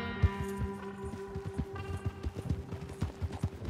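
Horse hooves clip-clop in Red Dead Redemption 2, a steady series of hollow hoof strikes at a walking pace, moderately close, over a soft musical background.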